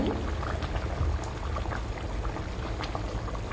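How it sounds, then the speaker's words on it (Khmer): Fish soup bubbling in an open pot after the lid comes off, a close, continuous rolling boil with gurgles and small pops, no voices. "បន្ទាប់ពីគ្របឲ្យពុះហើយយើងខ្ញុំបើកគម្របចេញ"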